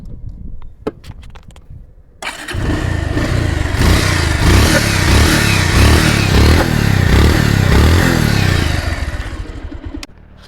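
A used Bajaj Pulsar motorcycle engine starts after a few light knocks and runs loudly and steadily for several seconds, a low rumbling idle with rattling mechanical clatter, then cuts off.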